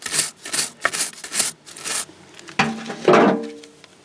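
A stiff brush scrubs a Mercedes-Benz W126 S-Class wheel coated with Zep oven cleaner in quick rhythmic back-and-forth strokes, close and loud, followed by slower rubbing and a short squeak, with no talking.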